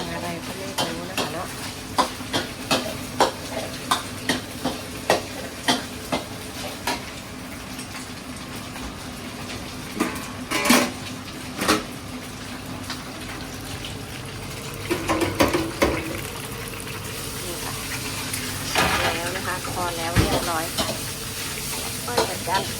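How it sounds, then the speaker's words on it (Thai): Shrimp fry in a pan in a busy kitchen, with a continuous sizzle under repeated clacks and scrapes of utensils, plus a burst of spattering and some running water in the background. "ทอดกุ้งนะคะ"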